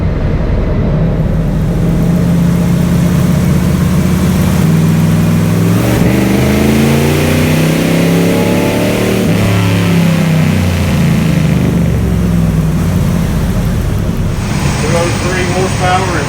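A Buick 401 Nailhead V8 in a car roars on dyno rollers, a loud continuous pull with the engine note sweeping up and back down through the gears, staying close and dominant throughout.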